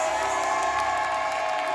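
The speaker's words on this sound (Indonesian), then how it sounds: "tepuk tangan dulu buat para panelis" A studio audience on an Indonesian talent-show set claps and cheers for the panelists in a dense, continuous wash of applause with scattered whoops, loud and close, with no talk over it.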